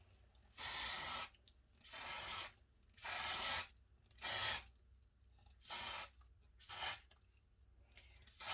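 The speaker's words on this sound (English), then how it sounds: "I'm going to actually spray it with this gold." Loud hissing bursts of gold spray paint from an aerosol can onto a tiara, seven short sprays in a steady rhythm with brief pauses between them, close by.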